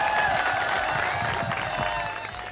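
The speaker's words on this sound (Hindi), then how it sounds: "क्या सारे मीम बनाने वालों के लिए तालियां हो जाएंगी" A studio audience applauding and cheering, a dense wash of clapping that tapers slightly at the end.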